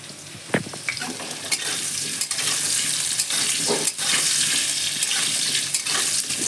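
Potatoes sizzling in a pan for a pumpkin dish, with a steady hiss of frying and a few scraping stirs of a utensil, close and continuous throughout.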